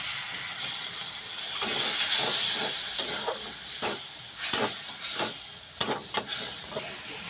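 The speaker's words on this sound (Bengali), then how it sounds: "আমি অল্প একটু জল দিয়ে দিচ্ছি এর মধ্যে" Water poured into a hot pan of thickened tomato-based hotdog sauce sets off a steady sizzle and hiss, with scattered clicks and spatula scrapes growing more frequent toward the end.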